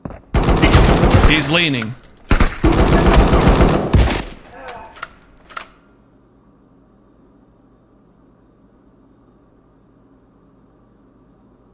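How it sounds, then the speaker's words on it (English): Bren gun machine-gun fire in a video game, two long loud sustained bursts followed by a few short sharp shots, then near silence, with a brief spoken remark. "Yeah, with a Bren gun, I think."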